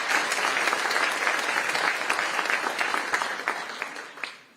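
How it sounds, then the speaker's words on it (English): An audience at the Festival of Books announcement applauds its health sponsor with dense, steady clapping. The individual claps grow more distinct as the applause tapers off near the end. "Please give them a round of applause."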